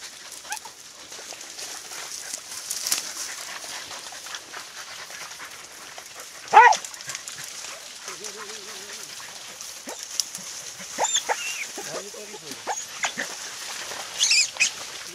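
Podenco Orito Español hunting dogs push through brambles, with short whimpers, panting and a few sharp yelps over rustling undergrowth, moderately close and intermittent.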